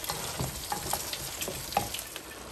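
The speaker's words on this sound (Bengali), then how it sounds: "দুটা বরবটি ছিল, এই দুটো আমি সাথে দিয়ে দিচ্ছি, এগুলো ভালো করে মিশিয়ে কষাইতে হবে।" Bottle gourd and yardlong beans stir-frying with spices in a pan of oil, a soft ongoing sizzle broken by scattered scrapes and clicks of stirring, close but fairly quiet, with no voices.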